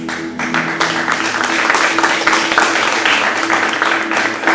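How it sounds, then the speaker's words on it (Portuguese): A church congregation breaks into sustained applause, a dense, steady wash of many hands clapping that fills the room for several seconds without any voices on top. "Se você tivesse entendido isso, você aplaudiu o Senhor."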